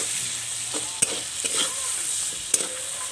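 Spinach, turmeric and chili powder are stirred in a hot pan, a soft continuous sizzle broken by a few sharp scrapes of the spoon against the pan.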